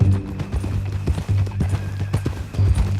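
Horse hooves clip-clop in a steady, uneven gait in the Red Dead Redemption 2 video game, close and fairly loud, with a low rumbling background and no talking.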